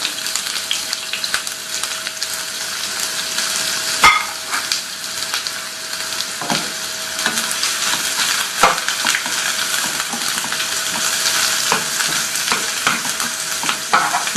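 Chopped onions sizzle and crackle steadily in hot tempering oil for a palak mash daal, a dense close frying hiss with occasional sharper pops and clicks, no voices over it.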